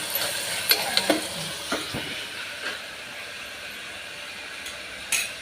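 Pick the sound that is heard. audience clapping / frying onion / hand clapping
frying onion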